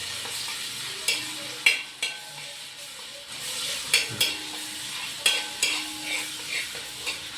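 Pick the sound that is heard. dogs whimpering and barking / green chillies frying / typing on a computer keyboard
green chillies frying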